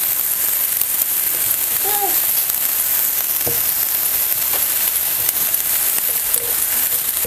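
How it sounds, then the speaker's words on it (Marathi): Chopped onion sautéing in a pan for a spicy mixed-lentil sandagi curry, a steady, dense sizzle throughout with a few faint stirring knocks, close and unbroken by speech. "अगोदर असंच आपण आहे ना हे कांदा चांगलंसं परतून घेऊया"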